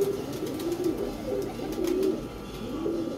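A pigeon gives soft, repeated cooing calls at close range against a steady murmur of background noise, with no one talking over it.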